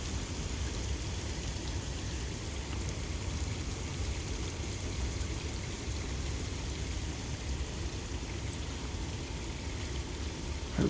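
Rain falls steadily during an early-morning thunderstorm, a constant even hiss of drops on surfaces with no thunder heard in this stretch.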